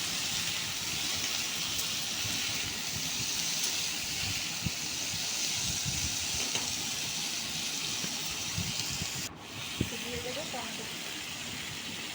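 Nigella seeds, bay leaf and dried red chillies sizzle in hot oil as a steady, close hiss with scattered crackles, and a brief stir or clatter comes near the end.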